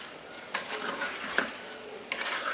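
Spiced rice with meat being stirred in a pot, a low steady sizzle with a few distinct scraping strokes of the spoon spaced apart, close and moderately quiet, no talking.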